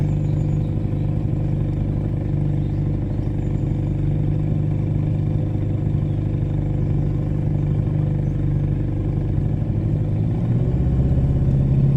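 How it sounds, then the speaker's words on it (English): Canal boat engine revving high in neutral, a steady loud mechanical drone with a dense low rumble that holds constant throughout, briefly shifting in pitch near the end. "See, because it's a high rev when in neutral."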